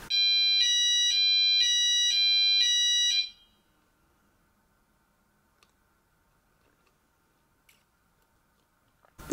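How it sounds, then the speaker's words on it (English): Fire alarm ringing during a weekly test, a loud electronic pulsing tone repeating in rapid bursts for about three seconds before cutting off into near silence with a few faint clicks. "Oh, the fire alarm didn't go back off."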